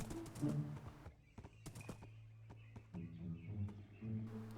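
Horse hooves clip-clop while riding through Minecraft's RLCraft modpack, hardcore mode: a quick run of sharp hoof knocks over a low hum, then a steadier trot of clops, with a faint whinny and bird chirps.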